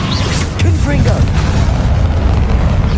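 A Confringo fire spell blast in Hogwarts Legacy: loud booming explosive rumble with crackling bursts, sustained for several seconds amid dense combat noise and a voice speaking over it.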